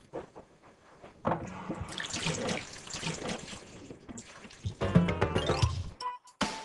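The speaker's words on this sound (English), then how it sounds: "Joel, did you remember to wash your hands?" Tap water runs into a sink while hands are washed, a steady splashing stream with brief pauses and a louder gush near the end, heard up close with no talk.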